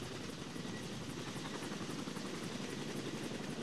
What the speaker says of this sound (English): the sound of helicopters flying overhead